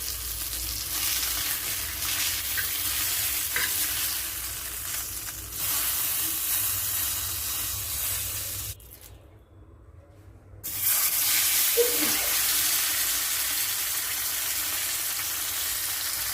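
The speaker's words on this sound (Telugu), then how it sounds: "ఫిష్ బాగా ఫ్రై అయింది కదా" Fish sizzling as it fries in a pan, a steady broadband hiss of hot oil running throughout, dropping out briefly for a couple of seconds before resuming just as loud.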